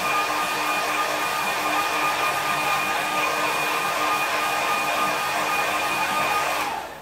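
A hair dryer blows a steady, close whirring drone over a wet watercolour painting, holding an even pitch for several seconds before cutting off at the very end.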